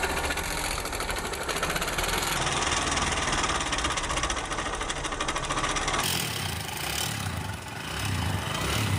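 A Honda SP 125 BS6 motorcycle engine, run without oil and damaged at the rocker, idles close by with a rapid, steady metallic knocking and clatter that shifts in tone partway through, with no talking.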